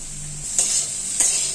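Paneer cubes with a little turmeric sizzle steadily in hot oil in a pan, with two short stirring scrapes cutting through the constant close frying hiss.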